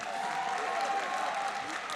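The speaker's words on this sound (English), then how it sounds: "Give it a round of applause for Amber," A convention crowd at the Midwest FurFest fursuit dance competition claps in dense, sustained applause that stays even and fairly loud throughout, with no gaps and no talk over it.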